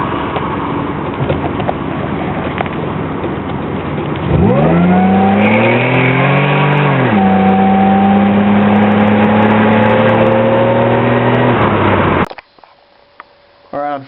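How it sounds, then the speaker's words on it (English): A supercharged Buick Regal with a 3800 Series 2 engine is floored from idle, the engine rising sharply and holding a loud, strained high rev with wheelspin for several seconds before cutting off abruptly. "So this is what happens when you just floor it with no technique at all."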